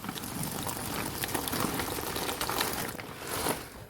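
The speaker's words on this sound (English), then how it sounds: "Cook the pasta in boiling hot water." Pasta bubbling in salted water at a steady boil, a dense, continuous simmering hiss with small pops, fairly close and without any talking.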